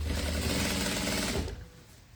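Sewing machine stitching boning into a wedding gown seam, a steady close mechanical whir running for about a second and a half before stopping abruptly.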